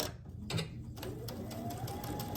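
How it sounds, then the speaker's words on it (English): Sewing machine stitching quilt block pieces with a quarter-inch seam, a steady rapid mechanical whir with rhythmic needle ticks, close but fairly quiet, running continuously. "I'm going to stitch from here to here."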